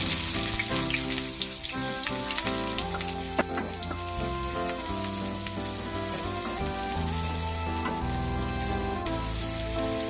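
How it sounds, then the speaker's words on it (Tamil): Chopped onions frying in cooking oil for chicken fry, producing a steady crackling sizzle throughout, close and fairly loud, with no voices. "ஒரு 50 கிராம் வெங்காயம் கட் பண்ணி போட்டுக்கலாம்"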